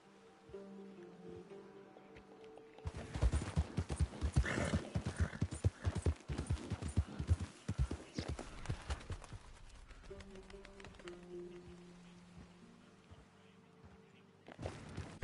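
Horse hooves in Red Dead Redemption 2 clop in a fast, driving rhythm after a quiet start. The galloping stays loud and close for several seconds, then fades to a softer ambient bed.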